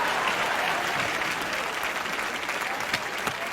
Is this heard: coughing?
no